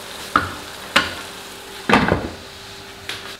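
Masala mixture frying in a pan, with four sharp spatula scrapes and knocks spaced over a soft, steady sizzle, close and fairly loud, with no voices.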